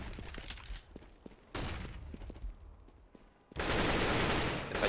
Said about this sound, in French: Il va tomber sous les balles de Struxy.